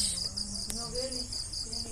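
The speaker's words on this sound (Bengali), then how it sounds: "রাতের গ্রামের বাড়ি দেখুন অন্ধকার ঝিঝি পোকার আওয়াজ" Crickets chirp at night in a village in a continuous high-pitched trill, steady and fairly faint, with no talking.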